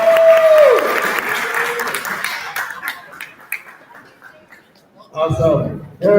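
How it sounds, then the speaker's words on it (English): A community circle group claps hands together in a short burst that thins into scattered claps, mixed with light laughter and talking voices nearby. "Go back and do some hand clap."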